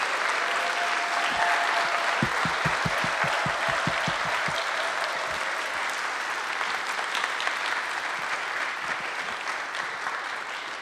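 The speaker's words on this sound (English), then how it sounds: "You may applaud." Concert audience applauding steadily in a church hall at a spring concert, broad sustained clapping from many hands, with a run of sharper, closer claps standing out near the start.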